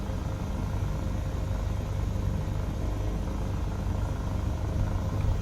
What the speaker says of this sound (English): The engine noise, you know, the turbine spooling up is very good.